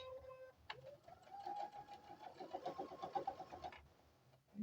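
A sewing machine stitches a quilt, its steady motor whir and rapid needle chatter rising after a brief start, running close and fairly loud with no talk.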